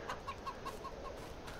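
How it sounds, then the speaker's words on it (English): Farm chickens cluck in a short series of soft, evenly spaced calls, about six in quick succession, over a steady background hum. "The chickens are doing their eggs"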